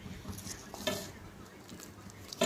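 Small water lily flower fritters frying in hot oil in a wok, with a soft, steady sizzle and crackle and occasional light stirring taps close by.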